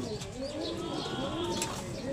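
A racing pigeon coos in soft, low, rolling phrases close by, repeating over a steady background hum with a few faint chirps mixed in.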